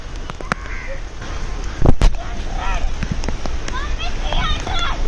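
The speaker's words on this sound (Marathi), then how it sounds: "विविध पक्ष्यांचे आवाज ऐकत ऐकत आम्ही चाललोय पायऱ्या मोजत मोजत" Several birds chirp and trill along a wooded trek path of stone steps up to the Mumbra Devi temple, and a crow caws among them. Footsteps and rustling mix in, with a couple of sharp thumps near the middle.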